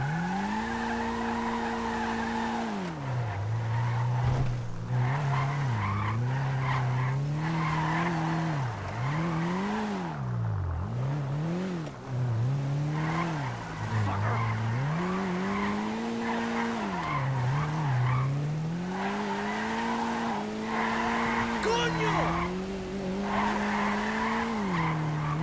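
A standard car drifting in GTA 5 with a drift mod, engine note rising and falling continuously as the tires skid and squeal throughout, loud and steady with no talking.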